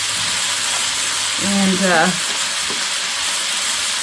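Chopped onions frying steadily in a pan, a continuous close sizzle and hiss with a brief stir, while a voice speaks a word over it.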